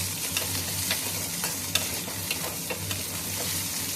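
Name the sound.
tamarind, coconut and spices frying in a pan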